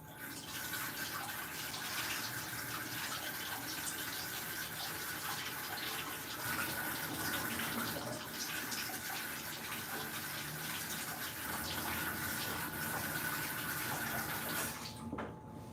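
Kitchen tap water runs steadily over green beans being washed for Egyptian fasolya, a continuous close rushing stream that stays even and unbroken for the whole stretch, with no voices over it.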